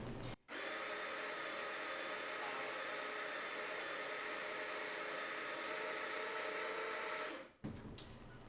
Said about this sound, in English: just get a good shot of espresso going